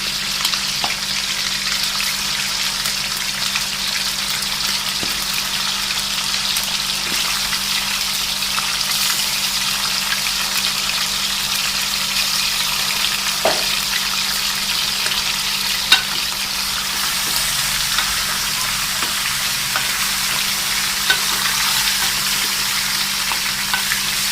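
Chicken for a white creamy karahi fries in a karahi with a loud, constant close-up sizzle and bubbling, and an occasional stir, no voices over it.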